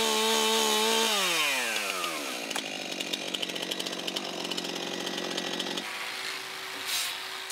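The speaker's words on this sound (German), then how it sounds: "Mit der Flex schleift und fasst mal wieder die Baumhausbauerin den Handlauf" A loud angle grinder whines down in pitch, then settles into a rough, buzzing grind with rapid rattling as it sands a wooden handrail on a children's playhouse.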